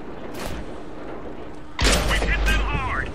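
A tank cannon fires in the World of Tanks video game on Xbox 360, a sudden loud boom followed by a rumbling tail, with game noise and a voice over it.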